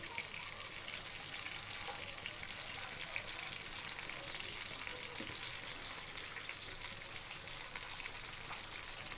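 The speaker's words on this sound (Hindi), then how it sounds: "हमने 2 कप प्रेशर कुकर में ऑयल शामिल किया है, और उसके बाद हम इसमें डालेंगे लहसुन" Garlic frying in oil in a pressure cooker gives a faint, steady sizzle and crackle that runs unbroken throughout.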